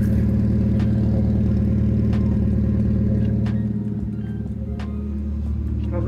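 A 1990 NA Mazda Miata with a rough straight-piped exhaust idles in a steady, loud, low rumble with light clatter, holding constant for several seconds with a slight dip near the end.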